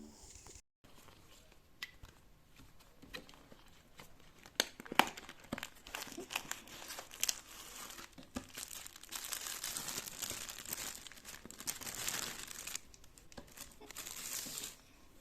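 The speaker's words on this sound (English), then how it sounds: "an ASMR moment of a flag." A small Turkish flag, likely fabric or plastic, being crinkled and handled up close, giving a continuous dry rustling and crackling with sharper crunches scattered throughout; no talking.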